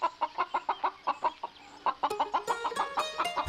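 A cartoon hen clucks in a quick, regular series of close, clear clucks, speeding up and growing busier toward the end.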